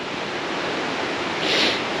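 Balea waterfall on the Transfagarasan in Romania, heard from a distance as a steady, faint broadband rush blended with wind, swelling slightly toward the end.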